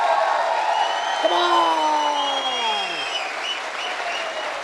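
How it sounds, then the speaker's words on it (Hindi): Audience applause at a Safe Shop award event in India, a steady wash of clapping from a crowd lasting throughout, with someone speaking over it. "तालियां बजाओ भाई"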